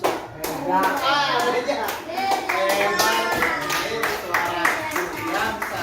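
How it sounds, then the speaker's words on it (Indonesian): A classroom of students claps for a classmate who has just read aloud: a burst of scattered, uneven hand claps under a teacher's voice, with children's voices mixed in nearby. "Tepuk tangan untuk Nerdiansa."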